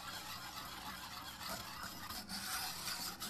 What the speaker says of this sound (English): Whisk all that together.